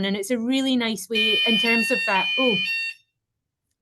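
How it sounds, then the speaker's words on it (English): A building's fire alarm goes off during a university talk, a piercing high electronic tone that cuts in over someone speaking and sounds for about two seconds before stopping abruptly. "That was our fire alarm."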